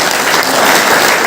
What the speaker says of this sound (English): I request everyone to give them a big round of applause